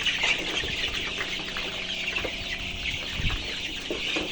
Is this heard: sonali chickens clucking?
yes